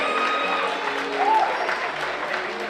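A church congregation at a year-end thanksgiving evening applauding, with dense sustained clapping and some cheering voices mixed in throughout.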